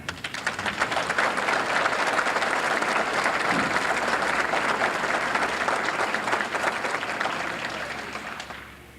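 A crowd applauds steadily for several seconds, dense clapping filling the room before tapering off at the end.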